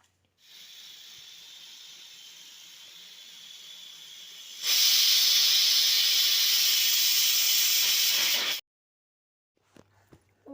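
A loud, steady sizzle of onion and cumin hitting hot oil for a tempering surges up for a few seconds after a quieter hiss, then cuts off abruptly.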